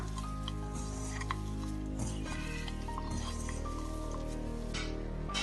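Mutton mince and coriander being mixed by hand in a bowl, with soft clinks and scraping against the vessel, a steady background hum underneath and no talk.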